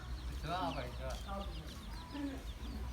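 Domestic chickens raised at a rural home cluck close by in repeated short calls, with people talking over them.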